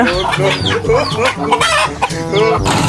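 Native chickens cluck and squawk loudly and continuously as one is caught, with overlapping agitated calls close by and a few brief higher cries.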